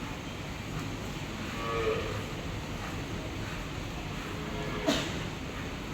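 Cows on a dairy farm moo among many cattle during milking, low drawn-out calls at moderate distance over steady background noise, with one brief sharper sound near the end.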